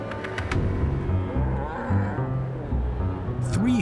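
Several cattle low and moo close by, deep drawn-out calls overlapping one another against a steady outdoor background.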